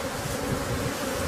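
Honey bees buzz in a steady, dense drone at an open hive, a continuous close hum filling the whole moment without pause.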